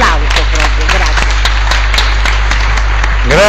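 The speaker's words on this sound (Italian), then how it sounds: "vi faccio un applauso proprio, grazie." An audience at a literary writing event applauds in a loud, continuous patter of clapping with a steady low hum underneath and voices rising through it.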